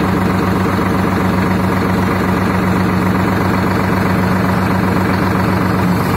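A steady, rumbling tractor engine idles continuously at close range with a constant low hum and vibration, no voices, at a tractor market.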